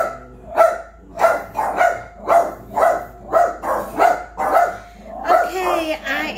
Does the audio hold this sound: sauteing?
no